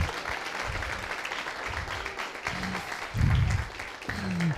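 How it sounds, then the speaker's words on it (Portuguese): Audience applause at the close of a live group demonstration of the boiling point, steady clapping through the clip with a louder swell near the end, heard close with room ambience. "Uma salva de palmas para todos nós"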